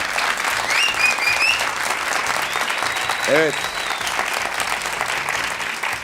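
Studio audience applauding on the Turkish game show Büyük Risk, a steady wash of clapping throughout with a brief spoken word and faint tones over it.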